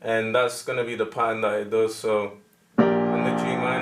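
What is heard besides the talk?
None of the usual background noises is heard.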